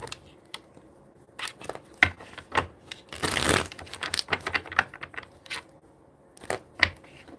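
Playing cards are shuffled by hand at close range: scattered crisp snaps and riffles with a longer burst of flicking in the middle and quiet gaps between.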